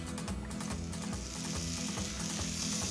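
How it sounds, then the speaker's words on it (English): Pears flambéed with two tablespoons of pear brandy crackle and sizzle steadily in a pan, a continuous busy frying hiss with scattered pops, close and fairly loud, with no talking. "we're gonna deglaze these pears with 2 tablespoons of pear brandy. Set it on fire."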